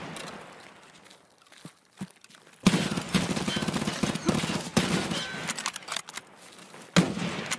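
Sniper rifle gunfire in Escape from Tarkov. A quiet stretch with a couple of isolated shots gives way to a sustained burst of dense, crackling shooting, with another sharp report near the end.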